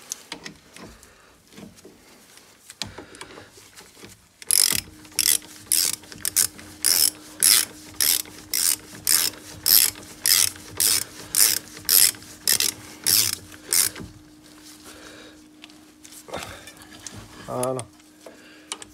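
A ratchet wrench tightens car brake parts during a disc, pad, caliper and hose job, giving a long run of about sixteen evenly spaced, loud clicking strokes after a few scattered mechanical knocks, with faint talk in the background.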